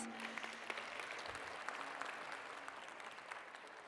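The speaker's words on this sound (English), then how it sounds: "You can give this a round of applause." Faint, steady applause from the audience at an evening business awards ceremony, a dense patter of many hands that holds at an even level throughout with no voices on top.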